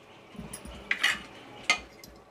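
Pav bhaji is stirred with butter in a pan, giving a few soft scrapes and two sharp metallic clinks of a spoon against the pan. The sounds are close and fairly quiet, with no talking.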